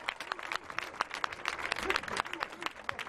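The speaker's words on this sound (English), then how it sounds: "Give yourselves a round of applause." Rally crowd in downtown Tulsa protesting the fatal shooting of Terence Crutcher, clapping in a dense, uneven patter of claps with voices mixed in throughout.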